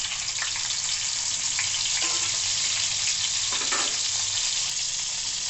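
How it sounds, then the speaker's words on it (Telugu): Chopped tomatoes and green chillies frying in a pan give a continuous, close, loud sizzle with a few soft stirring clinks, and no one speaks over it. "వేగిన తర్వాత మనం ముందుగా కట్ చేసి పెట్టుకున్న టమాటా కూడా వేసుకున్నామండి"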